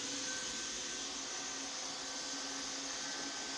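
A Ropo Glass robot vacuum cleaner runs at close range with a steady, even whir and hiss from its motor, and no one speaks.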